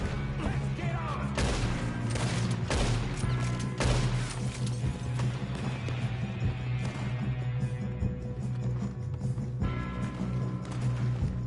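Gunfire during a train robbery in a video game: a rapid scatter of sharp shots and crashing impacts over a constant low rumble of the moving train, dense at first and thinning later.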